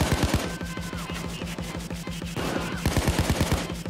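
Rapid, dense automatic gunfire from the heist shooter game Payday 2 rattles continuously and loudly, with bursts overlapping into a steady fusillade throughout.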